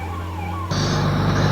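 A fire brigade vehicle siren wails loudly at a chemical factory fire in an industrial area of Kanpur, its tone jumping sharply into a higher, more piercing pitch partway through.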